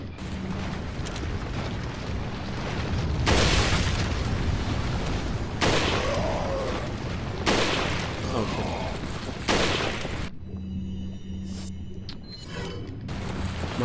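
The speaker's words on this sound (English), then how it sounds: "Good thing I got the flash grenade." A flash grenade and gunfire burst loudly in Resident Evil 4, with heavy booming blasts and crackling bursts that repeat across the stretch before a quieter, more mechanical tail.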